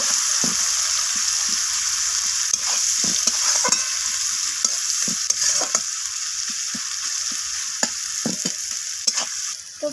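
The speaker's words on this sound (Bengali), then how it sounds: "পেঁয়াজটাকে আমি একটা ব্রাউন কালার ধরা পর্যন্ত পেঁয়াজটাকে আমি ভেজে নেব" Sliced onions frying in oil in a pan until browned make a steady close sizzle, broken by frequent scraping and tapping strokes of a spatula as they are stirred.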